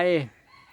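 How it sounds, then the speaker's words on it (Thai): Junglefowl crowing at a forest temple, one short close crow that cuts off after well under a second and is followed by quiet ambience, with no speech. "วัดป่าก็มีไก่ป่าด้วยนะครับ"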